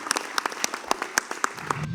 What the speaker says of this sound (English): I'd like to give a round of applause to the Ambassador